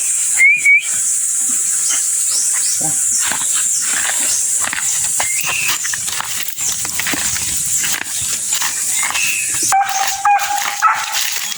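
A dog barks and yips repeatedly outdoors while chasing a cat, amid steady background noise, with sharp whistle-like tones breaking through now and then.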